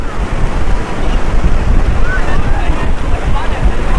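Rough sea waves surge and crash along a shore in rainy weather, loud and continuous, with heavy wind buffeting the microphone.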